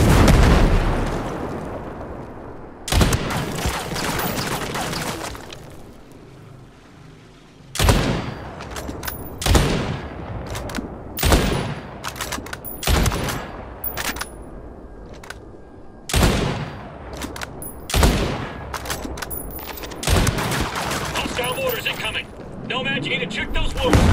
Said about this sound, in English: Enemies attacking with mortars.